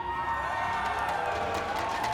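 A large esports arena crowd cheers continuously for Cloud9 after a match win at a World Championship event, a dense, loud roar of voices and whoops held steady throughout.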